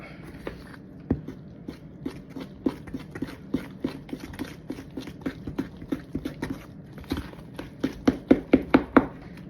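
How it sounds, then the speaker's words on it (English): A metal fork stirs vegan breakfast batter in a bowl, producing a steady run of close, sharp clinks and taps against the bowl that grow louder and quicker toward the end. "I'm just using a metal fork. Stir everything up."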